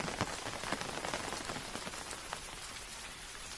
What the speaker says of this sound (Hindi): बाहर खड़े होकर बारिश देख रहे हैं